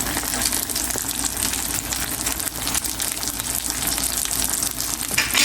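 Eggplant fries in a hot pan with a steady, close sizzle and crackle throughout, no voices.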